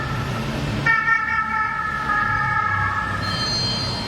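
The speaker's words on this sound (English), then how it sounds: "they heard the sirens going" Police sirens wail loudly on a Paris street with steady, sustained tones over traffic rumble, and a second, higher siren tone joins near the end.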